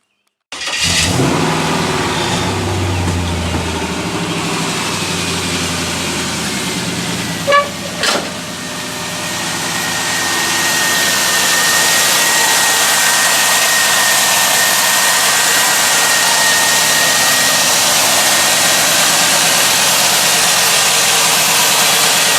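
LS-swapped 5.7 Corvette engine in a 1974 Caprice Classic two-door convertible cranks and fires, settles into a rough idle, and after a couple of short blips and a horn-like toot climbs into a louder steady rumble.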